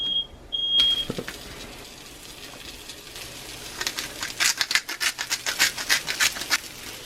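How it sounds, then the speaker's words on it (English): Beeping from a kitchen timer or smoke alarm in a kitchen where bacon fries in a cast iron pan, a brief tone at the start, then a run of rapid, loud repeated beeps over sizzling. "Sorry about the timer, the smoke point."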